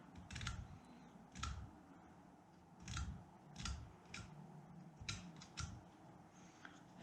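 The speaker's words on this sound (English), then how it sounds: "the X-Acto knife does a really nice job of it" An X-Acto knife trimming a burr off tile trim during a backsplash install, a series of short, faint scraping strokes in an uneven rhythm, close by in a quiet room.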